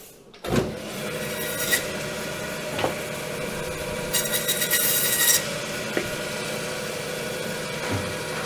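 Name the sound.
bandsaw cutting pork ribs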